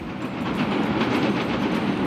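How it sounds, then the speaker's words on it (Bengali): A train rumbles past close by crossing an iron bridge over a river, with a rhythmic metallic clatter over a deep roar, loud and continuous throughout. "নদীর উপরে লোহার ব্রিজ ব্রিজের উপরে ট্রেন"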